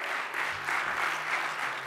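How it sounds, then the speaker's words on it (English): A brief burst of congregation applause during a Sunday sermon, many hands clapping at once, fairly faint and steady for a couple of seconds. "please give yourselves a round of applause"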